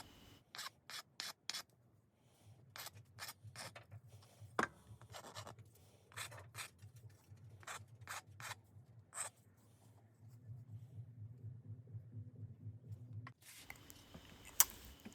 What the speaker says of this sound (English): just the final rounding over the edges with hand tools